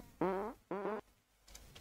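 Two short, buzzy farting bursts in a row from a farting fly in a video game, fairly close and clear, followed by a faint brief rustle.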